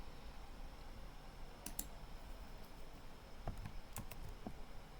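Keys pressed on a computer keyboard for a paste shortcut in PowerPoint, heard as a few faint, sharp clicks in two short clusters over quiet room noise, with no voices.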